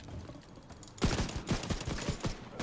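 A quiet stretch, then a rapid burst of gunfire in the video game The Division 2, several sharp hip-fired shots in quick succession, loud and close.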